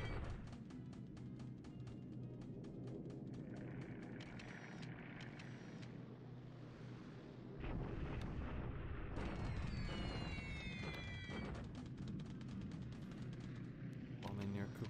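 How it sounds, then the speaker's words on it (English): Bombing explosions in the War in the Pacific strategy game fill the scene with a steady, dense rumble of blasts and booms. The barrage grows louder and heavier partway through and continues without a break. "Bombing near Kukong."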